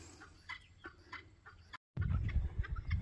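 Several Ameraucana chickens cluck in short, scattered calls while perched inside a coop on a spring morning, with a brief gap of silence followed by louder, closer rustling and clucking.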